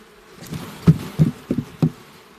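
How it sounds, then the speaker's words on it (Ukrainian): Honeybees crawling on a brood frame pulled from a hive while a colony is requeened, giving short buzzing bursts at uneven intervals, close and moderately loud over a low background hum. "Молода бджілка."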